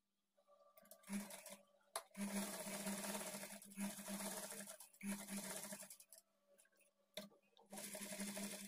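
A sewing machine stitches the neck part of a blouse in several close bursts of steady whirring, separated by brief pauses.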